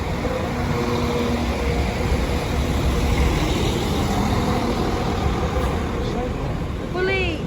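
A train rumbles closer to a level crossing in Lincoln High Street over a broad, steady noise, with rising metallic squeals near the end as it nears.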